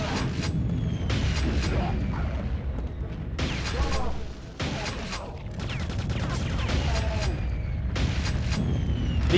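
Bursts of rapid gunfire and booming shots from arm-mounted machine guns on Quake 2 enemies crackle in repeated volleys, separated by short pauses, with mechanical clatter and a voice speaking over parts of it.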